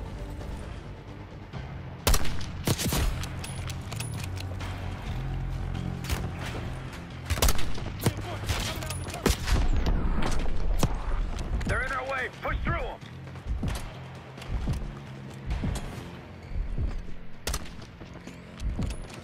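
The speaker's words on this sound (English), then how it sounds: "Who is shooting at me and from where are they shooting" Call of Duty: Black Ops 6 multiplayer gunfire, scattered sharp shots and short bursts, some loud and close, others fainter, heard under a player talking throughout.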